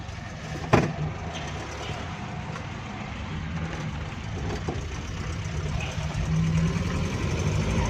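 A Datsun car's engine runs at a steady idle after its gearbox is repaired, a continuous low hum with a brief knock near the start.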